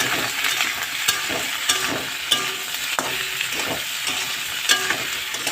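Ground ginger paste frying in hot oil while being stirred, a steady close sizzle broken by regular soft scrapes and knocks from the spoon against the pan.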